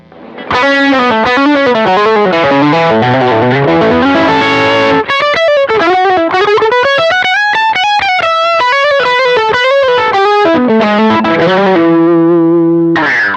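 A distorted electric guitar through the lead channel of a Boss Nextone Special amplifier plays a sustained, singing lead melody with bends and held notes, loud and continuous, with no talking.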